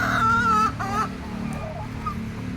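Hens clucking and squawking close by while being fed, a high sustained call early on, then softer scattered clucks over a low rumble of background noise.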